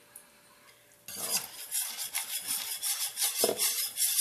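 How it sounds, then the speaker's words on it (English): A spoon stirs Lao pandan rice dessert (khao pahd) in a pot, scraping and clinking steadily and close up in a continuous rhythmic churn. "So make sure you stir it"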